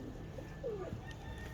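Pigeons in a breeder setup, some with purple feet, give a single faint coo from a little distance against a quiet, steady background hum.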